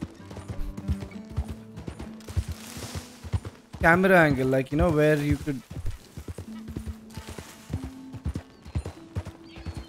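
Hooves clip-clop in a steady galloping rhythm as a horse is ridden in the video game Red Dead Redemption 2, with a loud whinny midway and someone talking over the hoofbeats.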